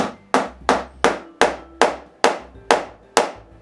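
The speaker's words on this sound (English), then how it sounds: "I seat them with a mallet." A mallet strikes wooden pucks to seat them into glued holes in a wooden game board: nine sharp, evenly spaced knocks, close and loud, each with a short ringing decay, no voices.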